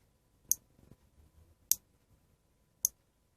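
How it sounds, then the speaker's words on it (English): Roberts R250 radio switch giving three sharp, isolated clicks spaced about a second apart, close and distinct against near silence. "every now and again you can probably hear the click"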